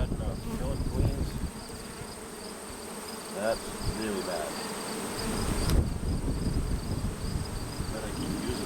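Honeybees buzz steadily throughout a colony transfer into a nuc box, a dense close swarm drone with a brief spoken remark over it.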